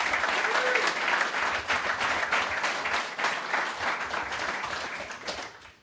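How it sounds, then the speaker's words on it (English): An audience at a Bitcoin custody talk claps steadily for several seconds, a dense, sustained round of applause from a crowd that tapers off slightly at the end. "Can we get a round of applause for Adam?"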